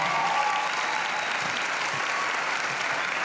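Dense, steady applause from an awards-ceremony audience greeting a singer on stage, a continuous wash of many hands clapping at even loudness throughout, with no speech over it.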